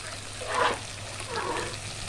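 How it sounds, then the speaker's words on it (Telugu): Water is poured into a pot for moong dal lemon rasam in two short gushing splashes, close and moderately loud, with a quiet pause between them. "ఇప్పుడు ఈ వాటర్ పోసేద్దాం"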